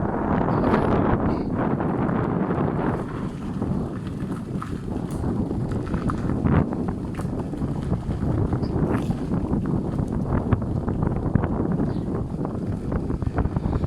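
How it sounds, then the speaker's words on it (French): Steady, loud wind rushing across the microphone while riding an electric unicycle through a park, with a continuous broadband roar, water likely churning underneath, no voices. "ça fait un bien fou là, le vent plus l'eau"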